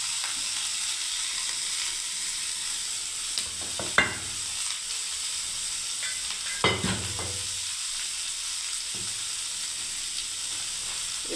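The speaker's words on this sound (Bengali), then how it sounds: "এবার আমি এই সবজিগুলো সব দিয়ে দিচ্ছি ভাজার জন্য।" Vegetables frying in a hot pan give a steady sizzle throughout, broken by a few scraping clatters as a spatula stirs them, with no voices.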